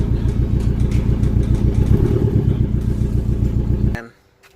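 Dodge SRT4 engine cranking without starting after an injector swap, loud rapid rhythmic starter chug close up, cutting off abruptly near the end.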